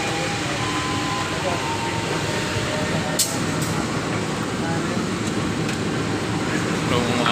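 Interior of a commuter train running from Surabaya Pasar Turi to Gubeng, a steady broadband rumble and air-conditioning hiss filling the carriage, with a couple of brief clicks partway through and a person talking faintly under the noise.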